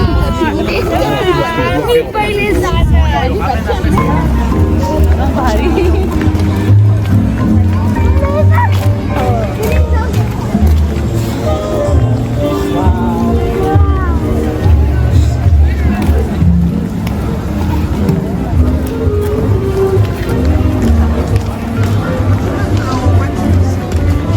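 Steady crowd hubbub at an evening Christmas market, many voices blending into a continuous murmur with low rumble underneath and no single voice standing out.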